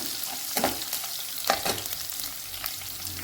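Finely chopped ginger and garlic fry in hot oil in a pan, a steady close sizzle with a few sharper scrapes and bursts as the pieces are stirred.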